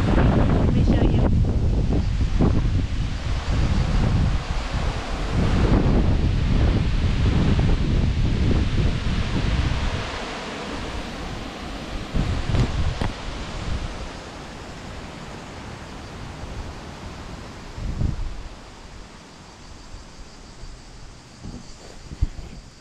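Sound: wind blowing through a tree at a hilltop monastery

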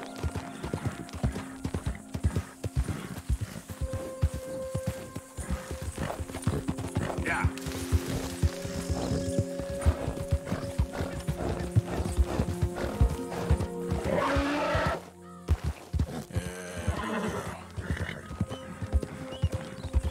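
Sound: horse riding in the video game Red Dead Redemption 2

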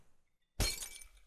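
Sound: glass breaking in Happy Wheels video game

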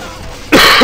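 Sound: coughing

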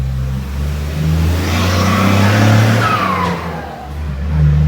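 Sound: roadside traffic noise

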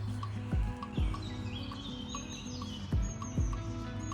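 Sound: birds singing

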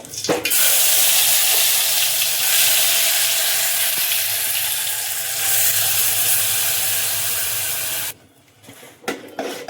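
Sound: masala spices sizzling as they fry in oil

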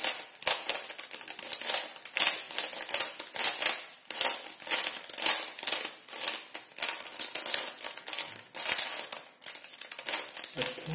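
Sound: Rubik's cube being shuffled

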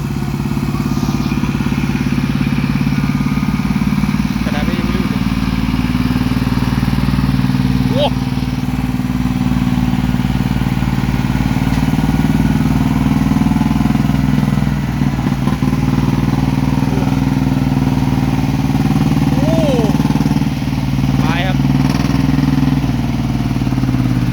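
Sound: farm tractor engine pulling through mud

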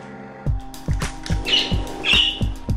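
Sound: budgie squawking

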